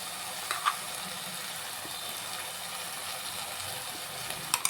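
Byadgi and Guntur chili paste fries in a pan for mushroom Ambur biryani, giving a steady, close sizzling hiss with a few small clicks near the start and end.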